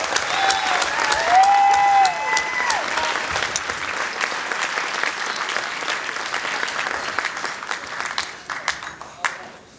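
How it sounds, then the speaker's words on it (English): Loud, sustained applause from a crowd at an army pre-deployment ball fills the room, dense and continuous at first, then thinning into scattered claps toward the end. "So one more round of applause."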